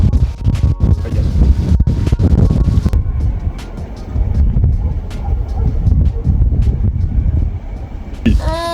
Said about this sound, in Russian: а то такой ветер, что может и это снести.